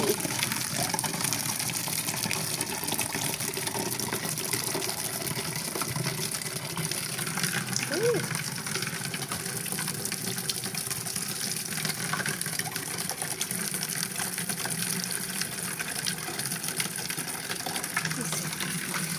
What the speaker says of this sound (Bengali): সব পানি পড়ে যাচ্ছে।